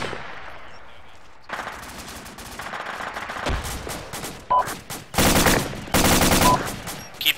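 Sustained gunfire in the military video game ACRE, with rapid automatic bursts that build from scattered shots into loud, dense volleys near the end, heard alone without talk.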